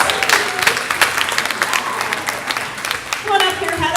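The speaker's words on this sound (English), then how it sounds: "Another round of applause for that." Audience applause at a talent show quarter-final fills the stage hall with dense, sustained clapping for about four seconds, with a host's voice speaking over it near the end.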